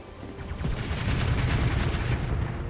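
Spaceship weapons in the game Starsector firing in a dense, overlapping barrage of rapid booming shots that swell louder midway and hold steady, with no voices.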